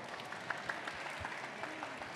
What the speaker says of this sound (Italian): un applauso allora, facciamoglielo.